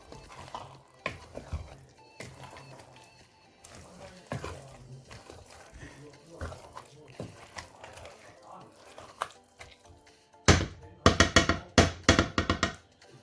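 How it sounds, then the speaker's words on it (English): A pot of Sierra Leone spinach stew is stirred with a spoon, making scattered knocks and scrapes that build into a run of loud, quick clattering strokes against the pot near the end. "we stir again one more time"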